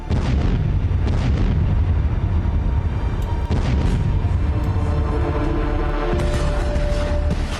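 Heavy booming explosions from a Russian attack on Kyiv roll one after another, loud and close, with deep rumbling between blasts and a sharper burst near the end.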